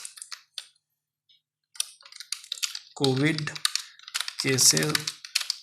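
Quick clicking keystrokes on a computer keyboard while a chart is edited in MS Word, scattered and fairly close, then a voice talks over continued light tapping.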